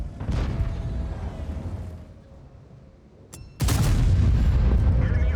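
Artillery fire in the tank combat game World of Tanks, Frontline mode: muffled low rumbling battle noise, then a sudden loud booming blast near the end that stays loud and rumbling.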